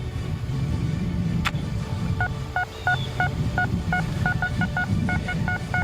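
Short, repeated electronic beeps from a metal detector signalling a target about three inches down chirp in an irregular rhythm over a low rumbling background.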